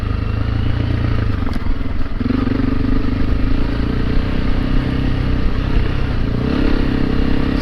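A Honda CRF300L Rally motorcycle climbs a steep rocky trail, its engine droning loud and close the whole time with shifting revs, under constant rumble and clatter from the terrain; no speech.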